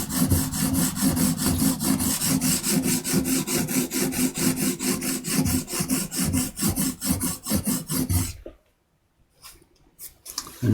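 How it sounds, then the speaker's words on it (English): A hand tool cuts metal off a steel printmaking tool in fast, rhythmic rasping strokes, close and loud. The scraping runs steadily for about eight seconds and then stops, leaving near silence. "I was pushing vigorously down to get lots of metal cut off there at the beginning"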